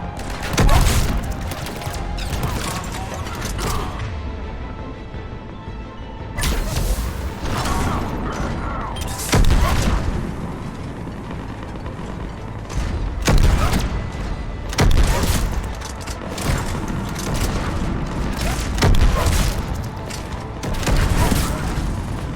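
Ship cannons fire in a video game as a series of loud, heavy booming volleys with mechanical clanks, arriving in repeated bursts separated by brief lulls, while characters speak over the action.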